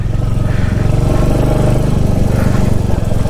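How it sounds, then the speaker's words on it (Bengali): A Royal Enfield Hunter 350 motorcycle climbing a muddy off-road mountain track, its single-cylinder engine thumping loud and close in a steady low rumble with wind buffeting throughout. "বাইক নিয়ে ওঠা যাচ্ছে।"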